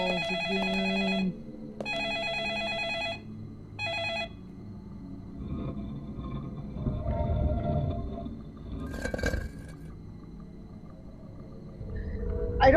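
Telephone ringing in the horror video game Deadly Premonition: three short, loud bursts of ringing in the opening four seconds, followed by low, rumbling game ambience and a brief burst of sharper noise.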